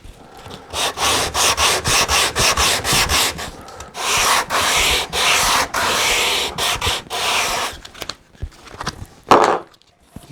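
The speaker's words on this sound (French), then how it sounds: "Et après on finit le travail avec une cale de ponçage." A sanding block rubs over wood in quick, rhythmic back-and-forth strokes, loud and close, with a few short pauses and slowing strokes toward the end.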